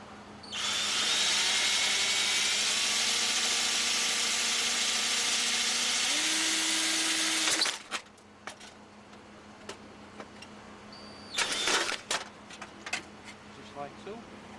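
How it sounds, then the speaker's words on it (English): Power drill whining steadily for about seven seconds while drilling out pop rivets on a Norcold N811 RV fridge cooling unit, its pitch rising near the end before stopping, followed by a short second burst and scattered clicks. "Drill the pop rivets out."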